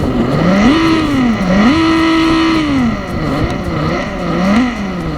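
A synthetic engine drone from a United TX 3000 electric motorcycle rises and falls in pitch like revving, a steady electronic imitation of a motorcycle exhaust, loud and close.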